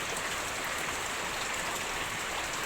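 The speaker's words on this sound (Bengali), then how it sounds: "প্রচুর বৃষ্টিপাত দিচ্ছে। এখন তো একটু বেশি বেড়েই গেছে।" Heavy rain falling steadily outdoors, a continuous, even wash of hiss and patter that fills the whole moment without pause.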